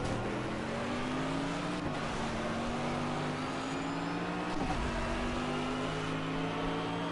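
BMW race car engine in the Project Cars racing game, a steady loud drone with rising and falling pitch as the car accelerates and shifts, running continuously throughout with no speech.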